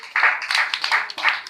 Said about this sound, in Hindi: एक बार आप सब अपने माँ के लिए जोरदार तालियां बजाएं।